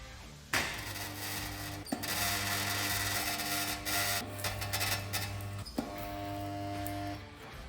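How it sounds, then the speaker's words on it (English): Spot welding a steel piece onto the inside sill of a brand new Mk1 Mini bodyshell, heard as a steady loud electrical hum with sharp clicks where each weld starts and stops, about three bursts running alone without talk. "We're just going to spot weld a piece of steel on the inside."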